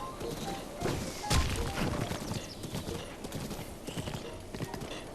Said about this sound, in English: Riding on a horse.